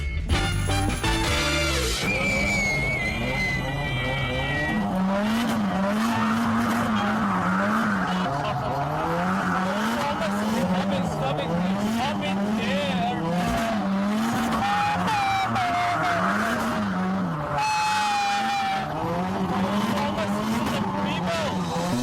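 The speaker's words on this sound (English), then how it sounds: "this driving student is really a professional drift car racer" A professional racer drifting a car with tires squealing, long wavering screeches over a loud revving engine that runs continuously and close for the whole stretch, no voices.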